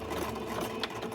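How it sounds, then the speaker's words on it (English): A sewing machine runs a zigzag stitch on a stretched sock, a steady close mechanical whir with a faint rhythmic clatter throughout the short stretch, no talk. "and then I'm gonna start back sewing"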